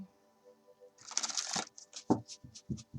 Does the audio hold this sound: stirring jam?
no